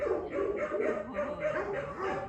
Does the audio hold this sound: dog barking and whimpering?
yes